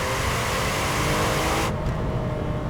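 A Ferrari 456 GT V12 pulls hard under full throttle, a loud, steady engine roar that holds close and strong throughout, with the higher tones dropping away partway through.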